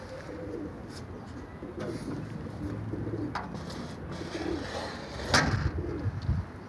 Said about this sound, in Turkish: İşte yavru kuş çıktı.